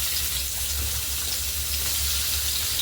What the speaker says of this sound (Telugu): ఇప్పుడు బీరకాయ అదే నూనెలో వేసుకుందామండి.